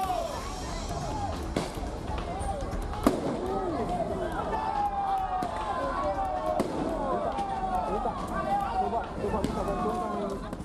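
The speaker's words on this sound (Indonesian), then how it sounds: "Kedua kubu saling serang menggunakan petasan." Firecrackers go off during a pre-dawn youth gang brawl on a street in Labuhan, Medan, North Sumatra: a dense, continuous crackle of pops and bangs with overlapping shouting voices throughout.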